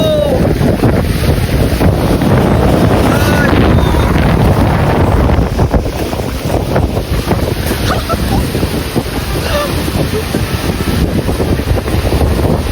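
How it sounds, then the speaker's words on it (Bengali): Strong, gusty storm wind roars continuously, buffeting the microphone with heavy rumbling bursts throughout, loud and unbroken with no speech. "কি পরিমাণে হাওয়া হচ্ছে দেখো"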